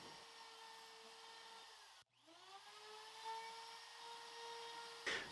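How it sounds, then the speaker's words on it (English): Handheld die grinder on a flexible shaft carves wood for a furniture credenza, a steady high-pitched whine that cuts out briefly, then spins back up and holds, fairly faint and alone. "to do the carving, I'm just using a handheld die grinder on a flexible shaft"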